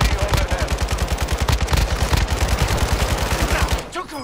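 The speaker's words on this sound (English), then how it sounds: "I can't believe you guys are shooting the shit out of him" Rapid bursts of video game gunfire, automatic weapons firing in a dense, steady rhythm for about four seconds before cutting off, loud and close with a team's shouted chatter mixed in.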